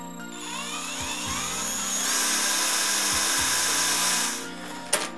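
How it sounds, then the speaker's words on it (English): A power drill bores holes for switches through an Amiga 500 computer case, a loud, steady high whine that holds for about four seconds, then cuts off, followed by a sharp click. "I'm gonna drill the hole for the switches now"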